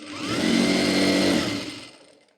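A sewing machine stitching a ladies' night suit, a single short run that whirs up, holds steady and winds down over about two seconds.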